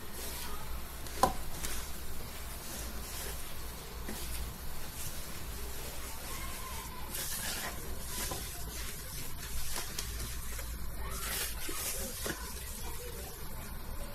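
Almond semolina cake batter for qalb el louz is worked in a bowl, giving soft, irregular scraping and sloshing strokes over about fourteen seconds, close by and fairly quiet, with a few sharper knocks.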